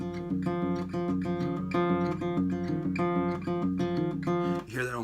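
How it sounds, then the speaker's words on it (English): Acoustic guitar fingerpicked with the thumb isolated, steady plucked bass notes with a scratchy percussive attack repeating in a continuous rhythm, close and fairly loud, no talking. "If we're going to isolate the thumb"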